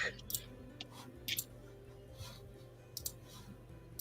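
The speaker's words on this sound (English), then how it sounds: "You can't hear it over your own mouse click." Several sharp, quiet clicks in small clusters, like a computer mouse being clicked, over a low steady background hum.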